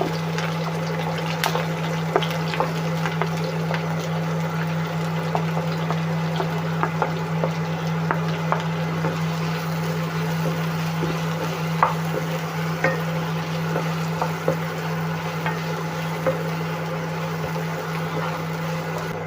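Green chillies, garlic and onion frying in a pan for a soya ball masala, giving a steady, even sizzle with faint scattered ticks and a low constant hum underneath, no voices.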